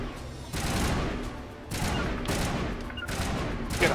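Gunfire rattles in a Mass Effect firefight as bursts of rapid shots repeat in clustered volleys with short gaps, loud and close throughout.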